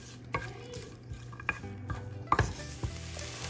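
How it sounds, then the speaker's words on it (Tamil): Ginger, green chili and curry leaves sauté in a pan, giving a soft, steady sizzle broken by spoon taps and scrapes against the metal. Fairly quiet and close, with no speech. "இஞ்சி, பச்சை மிளகாய், கருவேப்பிலை, இதெல்லாம் நல்லா வதக்கிடுங்க."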